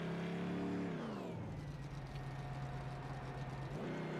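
Xfinity Series race car at the Mid-Ohio road course pulling away under heavy clutching, a loud close engine drone that drops in pitch, then holds a low uneven rumble before rising again, no voices.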